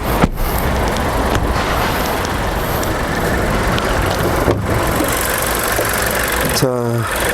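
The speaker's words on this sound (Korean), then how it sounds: "자엔진룸 소리 한번 들어주세요" A Volkswagen Golf 7th-generation 1.4 TSI petrol engine idles, heard in the engine bay with a steady low rumble throughout, a few clicks, and a brief tonal sweep near the end.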